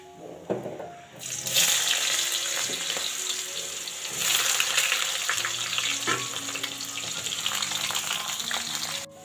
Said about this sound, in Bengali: এখন আলুগুলো তেলের উপরে ছেড়ে দেবো।